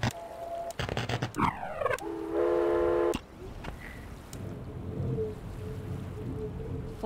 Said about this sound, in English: Third is falling down a hole